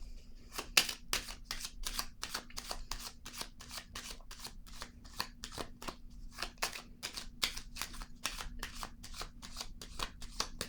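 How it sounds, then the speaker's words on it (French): Tarot cards shuffled by hand, a long run of quick, crisp riffling flicks in a steady rhythm, close and fairly quiet with no voice over it. "Je vais piger une carte."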